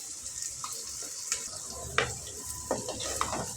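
Onions fry in a pan for a broad bean and egg stir-fry, making a steady close sizzle broken by several short scraping clinks and spatters of stirring; no voices.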